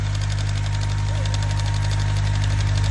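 An engine-driven 6-inch, two-way water pump on a very long shaft runs steadily, a loud continuous low drone with rapid mechanical knocking and no breaks.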